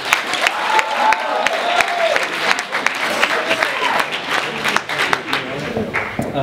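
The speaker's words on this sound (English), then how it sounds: "give him a round of applause, ladies and gentlemen" Audience applause for a man called up on stage, dense steady clapping mixed with a few cheers and crowd voices, loud and sustained throughout.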